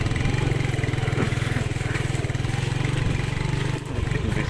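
A Rusi motorcycle engine runs close and loud, its rapid, even firing throbbing steadily with small rises in revs and a brief dip near the end.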